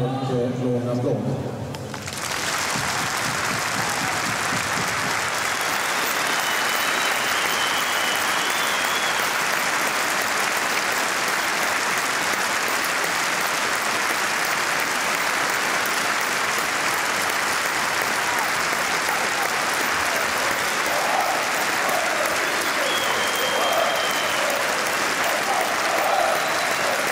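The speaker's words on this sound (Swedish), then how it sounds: "ge en varm och låg applåd" A stadium crowd gives a warm, sustained ovation in tribute to the late footballer Klas Ingesson, a broad wall of clapping that swells quickly after a brief quiet start and holds evenly, loud and continuous, for nearly half a minute.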